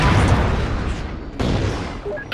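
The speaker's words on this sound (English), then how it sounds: "Look at that explosion!" An explosion in Halo 4 bursts loud and close with a heavy, rumbling boom that rolls and fades, followed by a second blast and brief debris sounds.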